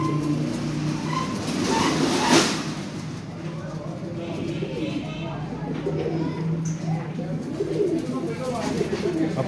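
Breeder pigeons coo softly in a loft, their low murmuring calls mixed with a person's voice and a faint rumble in the background.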